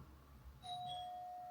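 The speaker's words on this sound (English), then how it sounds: "the doorbell." A doorbell chimes once faintly in a quiet room, a clear electronic ding whose tone rings on and sustains to the end.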